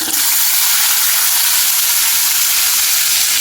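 Tomato and curry leaves, added after turmeric and asafoetida, hit hot oil in a pan for a potato curry, giving a loud, close, continuous sizzle and crackle.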